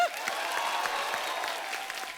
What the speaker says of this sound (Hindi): तो इसके लिए तालियां हो जाएं।